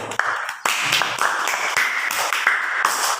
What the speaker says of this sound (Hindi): बच्चे की हिम्मत के लिए ताली होनी चाहिए